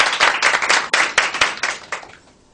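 An audience at an evening talk bursts into applause, dense overlapping hand claps in quick uneven waves that stay loud and close, then thin out and fade toward the end.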